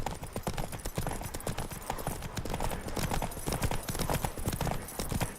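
Roach, a horse in The Witcher 3, trots with a steady, continuous clip-clop of hooves, close and fairly loud, beneath a faint ambient game background.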